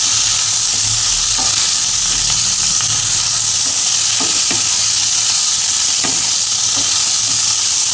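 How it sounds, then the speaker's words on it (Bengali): Pointed gourd (potol) frying in a pan with salt and turmeric, a steady close sizzle with occasional soft stirring knocks, no voices. "আমি একটু পটলটা ভালো করে ভেজে নিই।"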